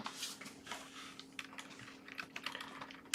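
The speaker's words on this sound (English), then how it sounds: "I'll try typing that in, see if it returns anything." Quiet keystrokes on a computer keyboard as a search is entered, irregular clicks in short bursts over a faint steady hum, ending in a sharper cluster of taps.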